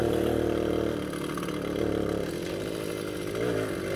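A Soviet Riga Mini RMZ moped engine drones steadily while riding, a close, continuous buzzing hum with slight shifts in pitch and no talking.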